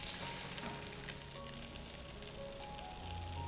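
Egg-soaked white bread slices frying in a pan for French toast, giving a soft, continuous crackling sizzle with faint hum underneath, close but quiet and steady.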